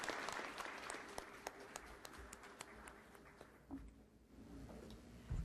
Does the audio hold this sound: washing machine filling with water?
no